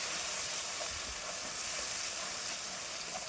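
Spice paste, nigella seeds and chopped ginger fry in hot oil in a pan, a steady, even sizzling hiss held close and constant throughout with no talking.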